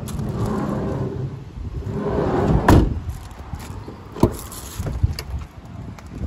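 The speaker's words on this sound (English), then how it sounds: "another side loading door." A side loading door on a 2016 Mercedes-Benz Vito L2 1.6 CDi van slides and thuds shut at close range, with a couple of sharper knocks and clunks following amid quiet handling sounds.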